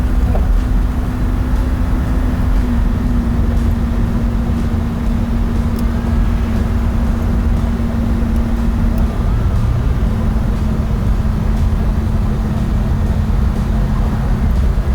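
A 1957 Chevrolet Sedan Delivery with a 327 V8 drones steadily from inside the cabin, with a sustained low rumble and a slight shift in engine tone partway through as the transmission shifts.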